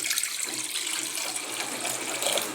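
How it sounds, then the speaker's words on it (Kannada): A steady stream of water gushes and splashes into a cooking pot, close and continuous. "ನೀರು ಹಾಕಿಡ್ತೀನಿ ನೋಡ್ರಿ ಈಗ"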